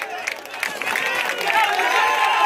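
A crowd applauds at the prize giving of a village football tournament in Keshpur. The clapping is a dense, steady wash that builds slightly toward the end, with a voice speaking over it.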